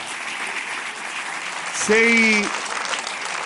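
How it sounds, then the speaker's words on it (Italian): A studio audience at a televised show claps continuously in the background while a single voice briefly speaks over the applause midway through. "questo applauso te lo voglio far fare da questo studio perché te lo meriti tutto"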